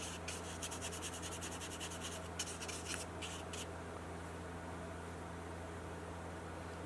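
Soft, quiet rubbing strokes as excess gold leaf flakes are brushed off a gilded surface, a quick run of scratchy passes that stops after a few seconds and leaves only faint background hiss.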